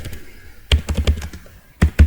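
Keys clatter on a computer keyboard while typing an SQL query, in two short bursts of quick, close taps separated by a pause, with no voice over them.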